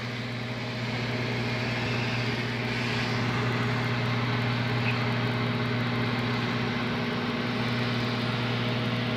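A microwave oven runs with grapes inside, giving a steady, loud mechanical hum with constant low tones throughout and no talking.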